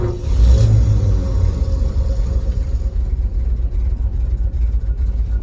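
A Ford F600 pickup truck engine catches, surging loudly in a close low roar at first, then settles into a rough, uneven rumble with light revving and no talk.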